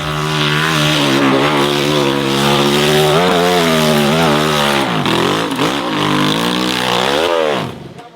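An enduro motorcycle engine revs hard on a steep hill at an extreme enduro race, loud and close, with rising and falling pitch as the throttle opens and closes before fading at the end.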